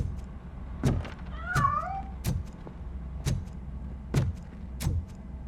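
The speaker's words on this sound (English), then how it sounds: "That cat must be hiding inside." A cat meowing in the video game RoboCop: Rogue City, a few drawn-out wavering mews between sharp thumps and knocks that repeat about every second, with no talking.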